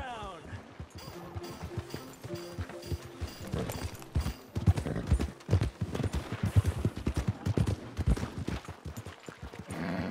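Horse hooves clip-clop in Red Dead Redemption 2 with irregular, close thuds that build in the second half, heard together with game sounds and men's speech.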